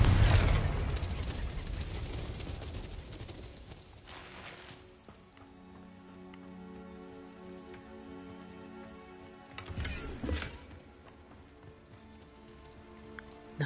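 A fiery blast from the Confringo spell in the Harry Potter game Hogwarts Legacy bursts loudly at the start, followed by crackling debris and a second smaller burst about ten seconds in, over a low game ambience.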